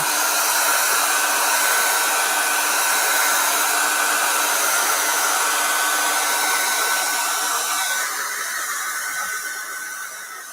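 A hair dryer dries paint on a Christmas tree painting, a loud, steady airy roar that holds for several seconds before tapering off slightly near the end, with no voices.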